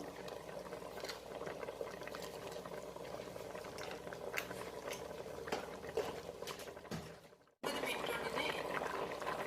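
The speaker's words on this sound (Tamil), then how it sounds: "நல்லா கொதிச்சு வருது." Rice and water boil steadily in a pot for fish biryani, with continuous close bubbling and popping that cuts out briefly near the end before resuming.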